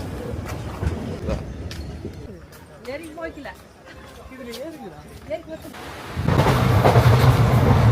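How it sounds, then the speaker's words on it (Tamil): A passenger train on the Udumalpet to Madurai route pulls into a railway station, swelling into a loud, steady rumble of wheels on rails near the end, after a stretch of people talking on the platform. "ட்ரெயின் வந்தாச்சு."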